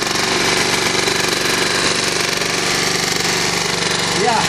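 An engine runs steadily with a fast, even chugging rhythm, loud and close, holding the same pace throughout before a brief rising tone near the end.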